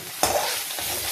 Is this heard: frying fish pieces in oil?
yes